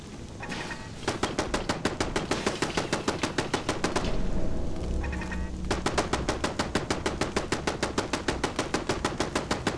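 An automated turret in Fallout 4 rattles off rapid, evenly spaced shots in long sustained bursts, with one short gap between them, moderately loud and with no voices.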